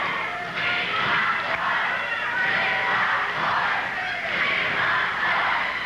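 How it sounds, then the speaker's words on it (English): Wrestling arena crowd at a 1980s Portland Wrestling show, rallying behind a struggling wrestler with loud, sustained cheering and shouting that swells and dips in waves, a dense wall of voices close and continuous throughout. "A crowd trying to get Boyd, give him a little spirit."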